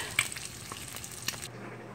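Bacon cooking in an oven, a steady broadband sizzle with faint crackling pops, moderately close and continuous, with no talk over it.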